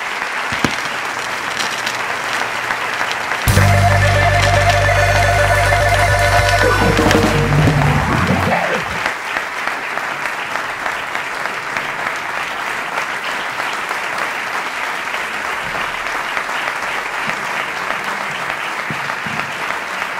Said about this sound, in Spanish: vamos a recibirlos con un fuerte aplauso